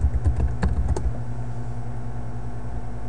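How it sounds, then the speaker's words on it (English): A password typed on a computer keyboard makes a quick burst of light key clicks over about a second, then only a steady background hum remains. "We're going to be typing in our user password."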